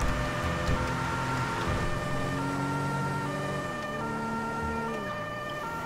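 Police car siren in GTA 5 with the LSPDFR police mod, a loud, sustained electronic wail with layered tones that dips in pitch partway through and carries on steadily without a break.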